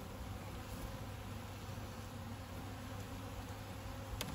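Honey bees humming steadily inside a hive that has recently swarmed, a soft continuous low drone without breaks and no voices.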